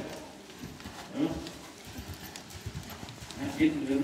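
Dressage horse Anastasia moving under her rider in an arena, with steady, soft hoof clip-clops under a voice speaking Danish.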